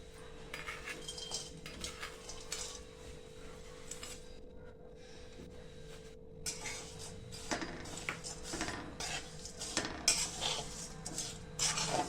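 Jaggery is stirred and melted in a little oil in a pan for peanut chikki: quiet, repeated scraping and light clinking of a spoon against the pan, continuing irregularly throughout.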